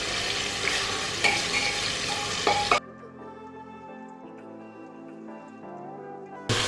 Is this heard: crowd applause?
no